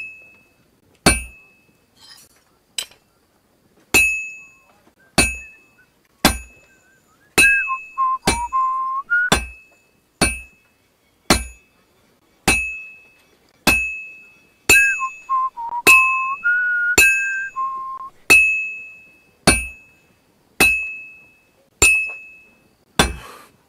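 Hammer blows on metal at a smithing anvil in Kingdom Come: Deliverance II, a regular series of sharp ringing clinks about one per second. Each strike rings briefly, and short whistling tones sound between some blows.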